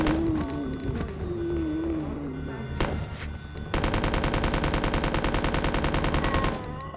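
Gunfire in the 1998 video game Resident Evil 2, with scattered shots and then a dense, rapid burst of repeated firing near the end, over game sounds and a voice talking early on.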